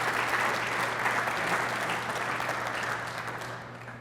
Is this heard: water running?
no